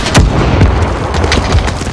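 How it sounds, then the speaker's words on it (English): Heavy, loud booms of bomb explosions in Call of Duty Modern Warfare, several deep blasts hitting in quick succession over a dense rumbling roar. "Damn, she threw her bombs"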